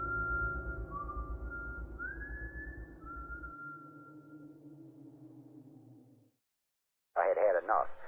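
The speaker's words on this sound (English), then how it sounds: "And remember, don't whistle at night." A lone whistled melody with sliding pitch rises over a low, dark drone, then fades, followed by a short burst of noise.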